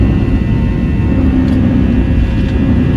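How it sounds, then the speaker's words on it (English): Loud, steady low rumble of an airplane heard from inside the passenger cabin, a continuous dense roar with no talk over it. "I hate when airplanes make this noise because it absolutely makes me feel terrified that something is wrong with the plane"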